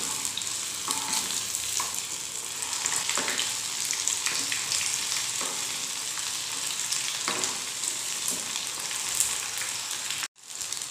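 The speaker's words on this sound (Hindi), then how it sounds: "मैं इसे मीडियम फ्लेम के ऊपर फ्राई कर रही हूँ, इसे हाई फ्लेम के ऊपर फ्राई नहीं करना है।" Breakfast food fries in oil over a medium flame, a steady dense sizzle with occasional soft stirring scrapes, cutting out briefly near the end.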